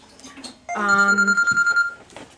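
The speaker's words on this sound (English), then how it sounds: "sorry, we're getting a phone call already." A telephone rings with an incoming call, a steady electronic warble with rapid pulsing that lasts over a second, heard between bits of background talk.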